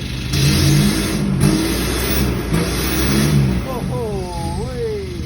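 A 3000 cc car engine revs up and down a few times in quick bursts, loud and close, with some talking underneath.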